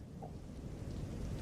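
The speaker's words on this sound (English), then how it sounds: "So yeah, so it's stormy." Steady thunderstorm ambience of rain with rumbling thunder in Microsoft Flight Simulator 2024, a dense continuous wash of rainfall with low rolling rumble, no voices.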